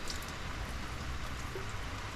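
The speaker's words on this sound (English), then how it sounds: "the rain." Steady rain falls continuously during a VW MK4 R32 motor mount job, a dense even hiss of drops with no breaks and no voices.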